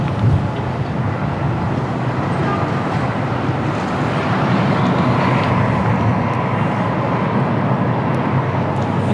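An EasyJet Airbus A320 rolls along runway 02 at Lisbon airport on a windy day, a broad steady roar of engine and wind noise at moderate distance, sustained throughout.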